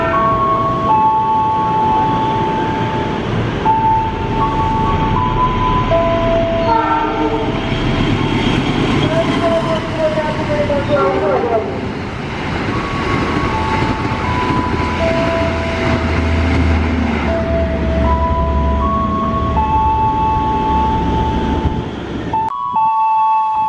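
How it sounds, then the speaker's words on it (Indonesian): The Argo Sindoro passenger train runs loudly through a station on track 4, a sustained heavy rumble with long tonal horn and signal notes and a pitch shift midway as it passes, ending abruptly. "jalur 4-nya akan melintas kereta api Argo Sindoro 17"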